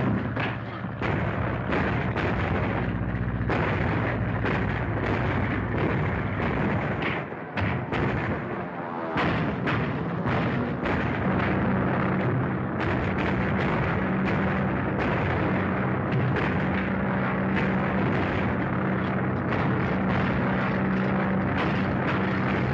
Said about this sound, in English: There's a stolen plane over your section.